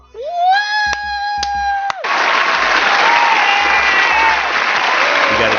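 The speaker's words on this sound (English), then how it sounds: "You gotta give her applause on that." A studio applause sound effect on a radio show follows a brief rising synth tone with sharp clicks, then a loud, sustained burst of crowd clapping and cheering that holds steady to the end.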